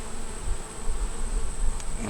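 Steady hum of honey bees around an opened beehive, a continuous mid-level drone with small rises and dips as insects move about, no voices.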